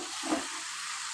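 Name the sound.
spices sizzling in hot oil for panch phoron chicken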